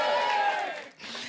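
Audience at a live stand-up comedy show in a theatre applauding and cheering, a dense, steady crowd wash that dips briefly before resuming.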